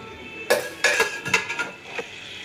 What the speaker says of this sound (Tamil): இப்போ ஒரு குக்கரை அடுப்பில் வச்சுக்கலாம்